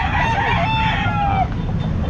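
A rooster crows loudly and close by at a Calumpit pet market, one long drawn-out call over steady crowd and market noise.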